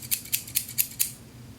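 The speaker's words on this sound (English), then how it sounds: "They're on your shears that have this kind of sound." Hair-cutting shears without bumper caps clack shut five times in a quick, even rhythm, each a sharp, bright metallic snap, close and alone.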